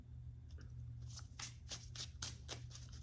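Tarot cards being shuffled close up, a quiet series of crisp riffling bursts in quick succession over a low steady hum.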